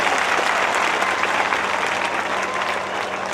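An audience at a Hindi dedication ceremony and building inauguration applauds warmly for the dedicated sisters, producing sustained, even clapping from a large crowd that holds steady throughout with no voices over it.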